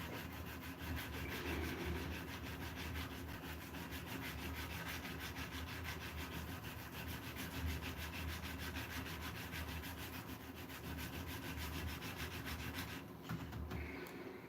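Wood is sanded by hand with a file used as a sanding stick, a continuous close rasping rub kept at an even, quiet level throughout, with no voices.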